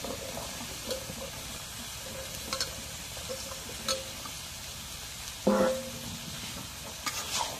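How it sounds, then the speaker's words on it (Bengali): Vegetables being stirred into masala frying in a pan, a steady sizzle with scraping stirs at intervals and one louder clatter midway, no talking. "এখন একটু নাড়া দিয়ে দিই"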